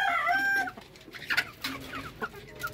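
Darag native chickens, a Filipino breed kept as a small flock of hens and a rooster, clucking in short scattered calls close by, with a brief high crowing note at the start and no talking.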